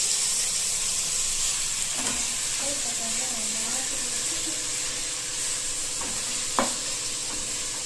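Carrot, beet, tomato and onion sautéing in a pan for noodles, a steady broadband sizzle with occasional stirring scrapes and a brief clink near the end; faint background sounds come and go.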